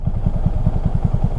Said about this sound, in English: Oh, sounded like a bike.